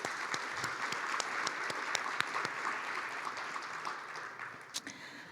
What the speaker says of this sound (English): let's clap it up for our community storyteller